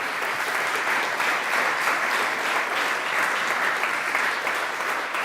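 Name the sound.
audience applause at awards ceremony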